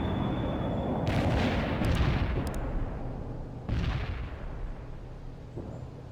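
Artillery and mortar fire in the video game World in Conflict, with dull booming blasts and rumbling explosions over a dense, continuous roar of battle, two heavier impacts standing out.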